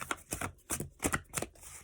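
Tarot cards being shuffled by hand, a few quick riffling bursts in an uneven rhythm, close and fairly quiet with no talk.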